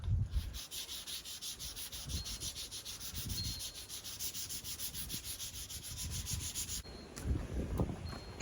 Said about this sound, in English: I'm thinking this one's going to sand out pretty nice.